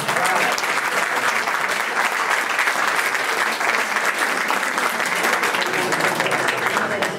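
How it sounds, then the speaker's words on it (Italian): Steady, full welcome applause for Pietrangelo Buttafuoco fills the room at an evening book presentation in Acireale, a dense continuous wash of many hands clapping throughout. "dando ufficialmente un applauso di benvenuto al nostro carissimo lo devo dire Pietrangelo Buttafuoco"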